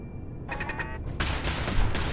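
Rapid turret gunfire bursts in a video game bunker, a short rattling volley that swells into a dense, sustained barrage.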